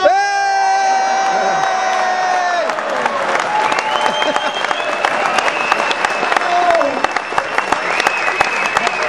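A theatre audience at a cruise ship's final show bursts into sustained applause, whoops and cheering for Mia, loud and continuous, with a sustained tone fading early on.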